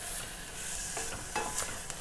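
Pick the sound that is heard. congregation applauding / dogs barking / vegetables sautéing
vegetables sautéing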